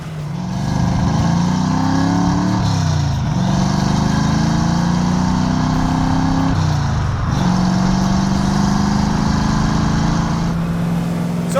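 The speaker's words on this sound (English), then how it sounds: "as I was building that exhaust, it just seemed like a good idea at the time, and I thought rowdy was gonna be fine" A 1973 Ford Mustang restomod with a loud custom exhaust drives steadily, its engine holding a deep, continuous drone that rises and dips with brief throttle changes, close and loud throughout with no talking.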